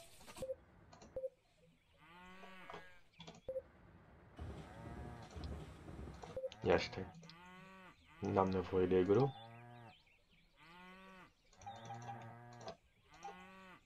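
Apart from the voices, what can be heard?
cows mooing in a video game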